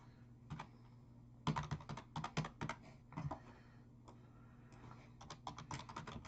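Rapid bursts of keystrokes clatter on a computer keyboard, typing a search in clustered runs with short pauses, close and fairly quiet, with no talk over them.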